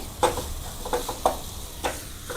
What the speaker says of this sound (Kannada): ಇವಾಗ ಸೋಯಾಬೀನ್ ಎಲ್ಲ ಫ್ರೈ ಆಗಿದೆ ಚೆನ್ನಾಗಿ